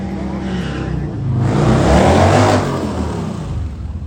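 Drag racing motorcycle launching down the strip at Lapeer International Dragway, the engine roar building to a loud peak around the middle and then fading as the bike moves away, with a voice faintly underneath.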